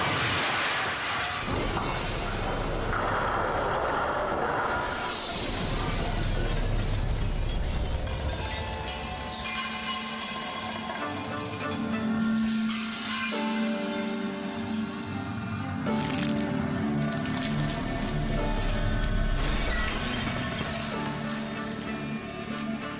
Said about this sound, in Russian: Прости, я разбил твое окно.